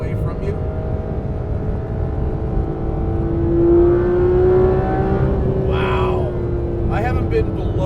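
A Porsche 991 GT3 RS engine holds high revs on the road, a steady sustained drone with a whining tone that swells briefly in the middle, heard from inside the car with no talk.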